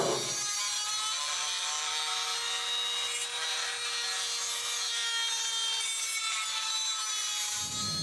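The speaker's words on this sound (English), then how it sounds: "You're going to be doing some grinding with the Dremel." A Dremel rotary tool grinds steadily at a brake disc's center hole during a Jeep disc brake conversion, a continuous close, loud whine with a faint sustained tone running for about seven seconds alone.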